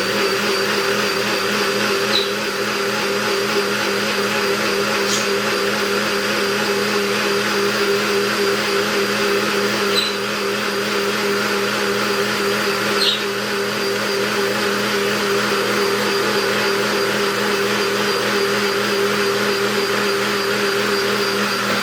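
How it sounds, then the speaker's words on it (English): A blender blends salsa with a loud, steady, whirring motor drone. It runs without pause for about twenty seconds, broken only by a few small clicks, and no one speaks. "then we're going to blend our salsa"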